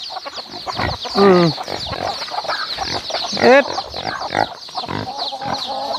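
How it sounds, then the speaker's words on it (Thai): Chickens cluck and squawk in two loud bursts on a farm, with people talking throughout and a steady high insect-like drone behind. "เสียงไก่"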